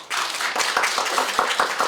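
A small group at a Korean election candidacy press conference claps, starting suddenly and keeping up a lively, even patter of hands at moderate volume, close by.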